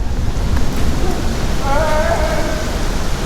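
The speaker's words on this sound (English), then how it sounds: "It is raining like an MF'er out there." Heavy rain pours down outdoors during a Midwest fishing outing, a steady dense hiss that fills the whole stretch without letup, with a faint tonal whine drifting briefly through the middle.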